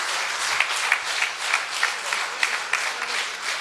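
Sustained applause from an alumni audience for a quiet zoology teacher, dense clapping from many people with occasional sharper individual claps popping out rhythmically above the wash.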